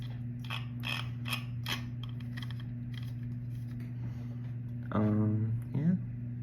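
A top cap being screwed back onto a fishing reel spool, giving small ratcheting, creaking mechanical clicks over a steady background hum, followed by a brief louder squeak.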